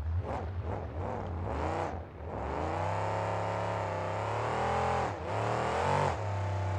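Monster truck engine at a 2002 KORR Monsters event in Fargo, revving hard in quick bursts, then holding a long loud roar during a sky wheelie, with throttle dips and swells near and constant.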